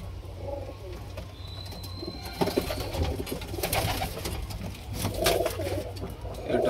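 Pigeons in a loft coo repeatedly at close range, soft rolling calls rising and falling over wing flutters and shuffling, with no talking.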